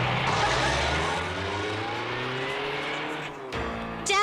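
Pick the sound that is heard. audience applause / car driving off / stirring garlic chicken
car driving off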